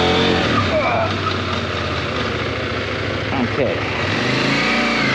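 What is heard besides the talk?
CF Moto MT 800 motorcycle braking hard with ABS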